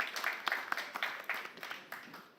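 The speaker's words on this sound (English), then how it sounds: "Please give her another round of applause." Scattered, faint applause from an audience at a panel discussion on the Great Green Wall and land restoration, welcoming a youth nature project coordinator; claps overlap unevenly throughout without voices.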